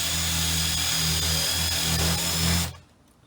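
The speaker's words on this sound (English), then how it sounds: "So drill in reverse first." A power drill running in reverse whirs at a steady, loud pitch for a couple of seconds, then cuts off abruptly, leaving near silence.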